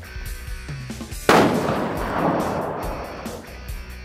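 A single loud, close blast from a Tac-50 rifle chambered in .50 BMG during outdoor field testing, fired at a cinder block target, followed by a long rolling echo that fades over several seconds.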